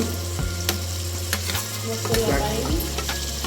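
Masala of ginger-garlic, onion paste and tomato frying and being stirred in a pan for chicken curry, with a steady close sizzle, scraping stirs and a few sharp clinks of the spoon, no talk.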